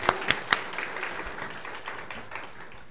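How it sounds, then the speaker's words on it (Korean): A congregation at a New Year's Eve church service applauding, with a few sharp claps up front followed by a softer, scattered patter of clapping that fades. "하나님께 영광 박수 올립니다"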